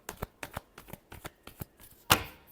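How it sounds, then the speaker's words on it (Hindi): Tarot cards shuffled by hand in a quick run of about nine crisp riffling bursts, the last one loudest and sharpest, close up and with no talking. "Last shuffle."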